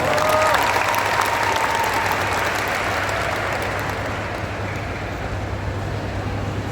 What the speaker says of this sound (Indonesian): Tepuk tangan untuk Rektor kita